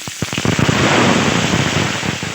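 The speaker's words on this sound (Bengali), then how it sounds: "আর সবগুলো উপকরণ একটু ভালোভাবে নেড়ে চেড়ে ভেজে নেব।" Cashews and soaked, drained gobindobhog rice hit hot oil in a pan, bursting into a loud, dense sizzle with a few crackling pops at the start, continuous and close with no talk.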